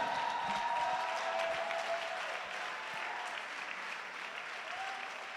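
A church congregation applauding and acclaiming the Lord, with steady sustained clapping and cheering from a crowd, fairly distant and even in level throughout.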